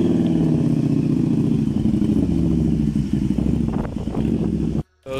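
Motorcycle roaring past at the Killarney car event, a loud engine drone with rising and falling revs and clattering pops, close, cutting off abruptly near the end.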